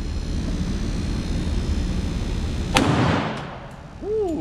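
A single sharp report from a Glock 19X pistol cracks loudly outdoors over a steady background rumble, followed by a short echoing decay, with a faint voice-like sound right after.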